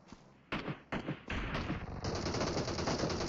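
Rapid bursts of automatic gunfire from a mobile battle royale game, loud and close, starting with a few separate shots and then running into a dense, sustained volley as two opponents go down.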